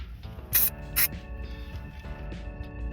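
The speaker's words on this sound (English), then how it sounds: "I'm going to give those a spray as well." Two quick hissing bursts from a spray can of sealant, close up, about half a second apart, followed by quieter handling noises.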